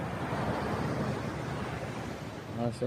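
Continuous low wash of sea waves at Jabal Sifah, Muscat, Oman, with a soft breezy rumble, steady throughout, and a brief voice near the end.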